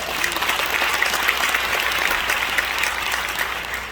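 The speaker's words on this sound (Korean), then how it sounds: "큰 박수로 맞아주시기 바랍니다" A hall audience at a Korean gathering in a cultural center claps loudly and continuously, a dense, even roar of applause with no talk over it.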